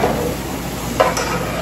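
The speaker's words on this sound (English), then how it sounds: "Just sauteing the onions." Onions sautéing in a pan, a brief close sizzle with a single sharp clink of a utensil near the end, no talking.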